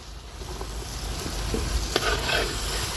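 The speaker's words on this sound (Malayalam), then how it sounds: "ഇഞ്ചി വെളുത്തുള്ളി പേസ്റ്റ് ഇട്ടിട്ടേ നമ്മൾ ഇളക്കി മിക്സ് ചെയ്ത് കൊടുത്തിട്ട്" Ginger garlic paste fries in a pan with a constant, close sizzle while a spoon stirs it, scraping in short strokes.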